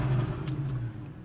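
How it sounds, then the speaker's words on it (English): A naturally aspirated Porsche 911 991.1 Carrera S engine revs with a steady, close mid-range drone that rises briefly and then settles back over about a second. "And this is the sound that you get from the naturally aspirated Porsche 911s."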